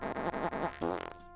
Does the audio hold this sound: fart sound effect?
yes